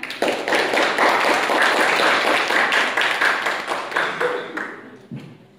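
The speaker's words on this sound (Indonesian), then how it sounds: "Mohon beri aplaus teman-teman semuanya." Classroom audience applauding after a student presentation in a Pancasila education class, steady dense clapping from many hands that fades out near the end.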